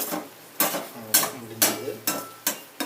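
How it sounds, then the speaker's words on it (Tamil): Egg tomato gravy is stirred in a pan with a utensil, giving a steady rhythm of about six scraping strokes over a soft simmering bubble, close by and moderately loud. "கொதிக்கும் போது அப்படியே மிக்ஸ் பண்ணிட வேண்டியது."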